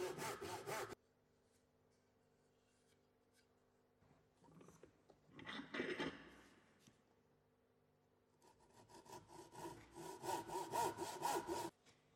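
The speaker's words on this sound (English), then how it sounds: "placing the timber vertically in the vise to follow the saw cuts down to the shoulder lines" A hand saw cuts down through a timber tenon held upright in a vise, working toward the shoulder lines, in two bursts of rhythmic rasping strokes separated by a quiet pause, close and fairly loud.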